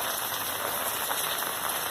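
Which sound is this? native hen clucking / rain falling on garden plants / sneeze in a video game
rain falling on garden plants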